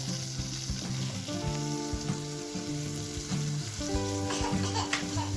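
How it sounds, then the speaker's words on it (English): Tomatoes frying in a pan, stirred with a spoon: a constant close sizzle broken by scraping and tapping from the spoon, over faint tonal background sound. "After adding tomatoes, cook until they become soft and mashy. Stir it well with the help of backup spoon."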